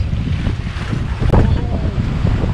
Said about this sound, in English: the wind really started kicking up